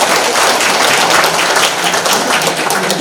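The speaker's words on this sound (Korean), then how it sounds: "박수 다시 한번 부탁드리겠습니다." Loud, dense applause from a large audience at a commemorative ceremony, many hands clapping in a steady roar that continues without pause.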